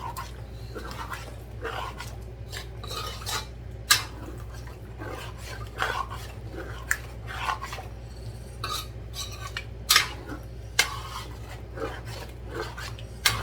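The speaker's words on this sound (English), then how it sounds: "We add the coconut milk. So we'll give this a stir." A spoon scrapes and stirs tandoori chicken curry after coconut milk is added to the pot, with soft rasping strokes and light clinks against the metal over a steady low kitchen hum, no talking.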